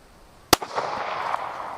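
A single sharp pistol shot from a budget Glock chambered in .40 Smith & Wesson, fired at a bowling pin on a range, rings out once as a loud close crack with a short trailing echo.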